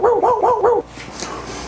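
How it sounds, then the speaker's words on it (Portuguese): A small dog barks four times in quick succession, loud and close, then stops, leaving only faint room noise. "Editor, bota o somzinho de cachorro aí"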